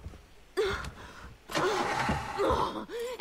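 A car in the Far Cry 3 video game cranks but fails to start, with two or three loud starter-motor bursts separated by brief pauses, close and clear.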